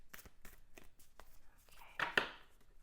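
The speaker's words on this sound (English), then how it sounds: "one more shuffle here" A deck of tarot cards gets shuffled in a few soft, quick riffling bursts, close and fairly quiet, followed by a louder flurry of card sounds.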